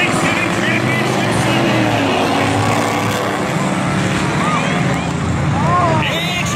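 Dirt track racing trucks coming around turn four at Valley Raceway, a loud continuous roar of engines and wind that blankets everything, with a commentator talking over it.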